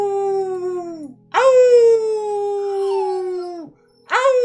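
A dog howls loudly at close range in long, sustained tones that slide down in pitch. There are three howls, separated by short gaps.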